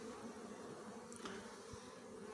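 Honeybees drone inside a hive box, a faint, steady, low-level buzzing that carries evenly through the quiet background with no talking.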